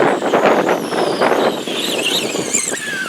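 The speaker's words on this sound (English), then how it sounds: "A little windy out today." Wind roars across the microphone in gusts, with the high whine of a Traxxas Rustler RC car running over the top.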